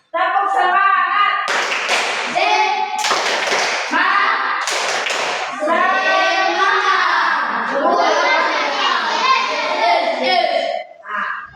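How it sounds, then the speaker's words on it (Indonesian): A school class does a rhythmic spirit clap in place, bursts of patterned hand claps and taps mixed with children's chanting voices, loud and close throughout. "tepuk semangat dulu di tempat aja ya"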